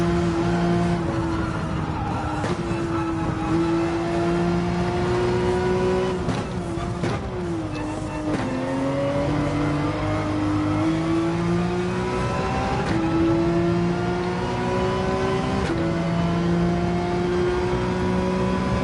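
A Ferrari race car laps in Gran Turismo 7, its engine note droning steadily and climbing and falling in pitch through shifts and corners, loud and continuous with no talk.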